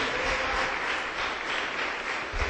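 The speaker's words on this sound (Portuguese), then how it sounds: "Dá uma salva de palmas para Jesus." A church congregation claps together in a sustained, even burst of applause that fills the hall.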